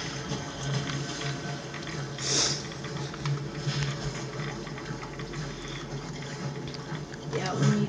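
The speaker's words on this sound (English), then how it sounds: "Whoa, I hear bubbling." Faint, low bubbling water in the video game Fallout 4, a soft continuous gurgle and burble under a quiet ambient hum, with occasional speech in the background.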